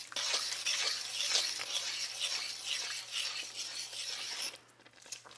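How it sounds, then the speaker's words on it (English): A spoon scrapes and rasps steadily through sugar and rhubarb jam in a pot over medium heat, a close, continuous stirring texture that stops abruptly near the end. "now I'm just going to keep it on a medium heat and stir in this sugar"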